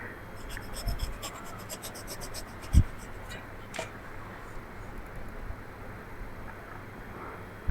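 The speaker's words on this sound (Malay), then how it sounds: "Cikgu duduk dengar orang lukis pensel. Lukis pakai pensel tu." A pencil scratches on paper in a quiet room, with faint, intermittent strokes and a few soft taps, close but low in level.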